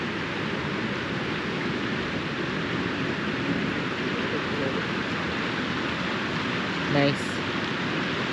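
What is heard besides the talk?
rushing snow melt floodwater at Kaibab Lake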